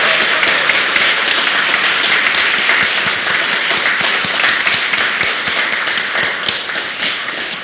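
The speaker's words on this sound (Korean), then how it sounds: "한 번만 더 우리 수고하신 우리 성가대 모든 분들에게 또 격려와 감사의 박수" A church congregation at a Christmas service applauds the choir, dense sustained clapping from many hands that stays loud and even throughout and tapers slightly at the end.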